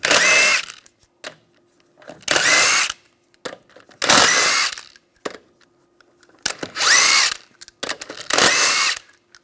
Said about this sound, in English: Take the wheel off using a 21 millimeter socket.